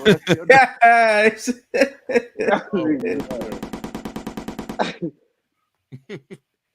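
An AK rifle sound effect fired from a soundboard: a rapid, steady burst of automatic gunfire lasting about two seconds. It follows loud chatter and laughter among several men and ends with a few brief sounds afterward.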